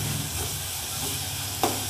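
Onions frying in a pan for a dried-fish curry with potato and raw mango, a steady close sizzle and hiss running throughout, with one brief stirring clatter near the end.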